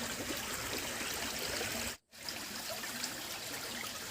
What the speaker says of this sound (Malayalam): അതിൻ്റെ അപ്പുറത്ത് എനിക്ക് സ്വന്തമായിട്ടൊരു തോടുണ്ട്.